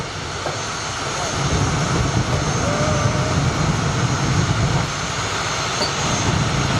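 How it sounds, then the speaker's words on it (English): Jet dragster engine at the IHRA Palm Beach Nationals drag race, a steady loud roaring, rumbling drone filling the scene from a distance without a break. "Shea Holbrook out of Florida, trying to get qualified to this jet dragster competition here at the Palm Beach Nationals"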